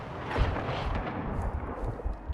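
Rapid gunfire and heavy low booms from the Call of Duty Warzone 2.0 DMZ video game, a continuous loud barrage of shots with dense low-end thumps and no talking over it.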